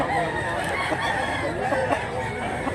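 A rooster gives repeated low clucks at close range over a busy, noisy background, with some voices nearby.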